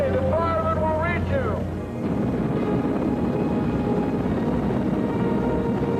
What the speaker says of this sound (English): the helicopters also created a great deal of confusion, noise, and blowing debris.